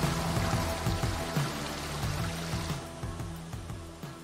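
Creek water runs steadily near a waterfall in a New Zealand stream, a continuous close pouring and trickling wash with no talk, under a faint low rhythmic tonal pattern.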